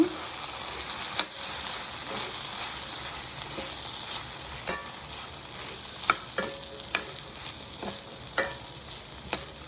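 Potato, capsicum and beans are stirred in a pan for a vegetable kurma, a quiet steady sizzle broken by scattered scraping clicks of the spoon that grow busier toward the end.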